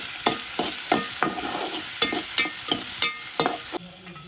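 Curry leaves, onion and tomato fry in a pan, a loud sizzle broken by repeated stirring scrapes at an uneven rhythm, close by with no talking.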